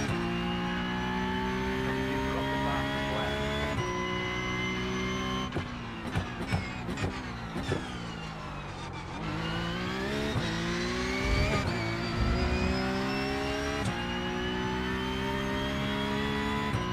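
A Porsche Cup race car engine in the video game iRacing roars continuously at Spa, revving up and down through gear changes, with brief tire noise in the middle; loud and steady throughout.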